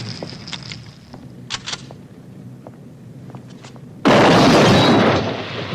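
A vehicle fire from a gas leak bursts into a loud, sudden roar of flame that holds steady for nearly two seconds, following a stretch of quiet footsteps and small knocks.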